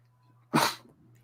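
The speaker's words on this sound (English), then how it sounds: "I have to sneeze." A single sharp sneeze bursts out close by, brief and loud, against an otherwise quiet background with a faint electrical hum.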